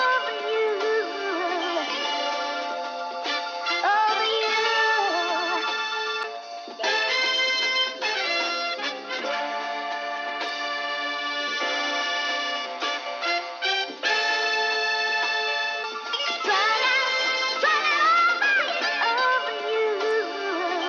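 Chopped sample from a song, filtered to a narrow band and pitched up four semitones, looping continuously as a bright, thin, busy music bed with no talking.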